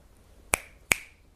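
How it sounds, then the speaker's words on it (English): Two crisp finger snaps, close and sharp, about half a second apart in otherwise quiet surroundings. "Is that my finger snap, or is that an anonymous finger snap?"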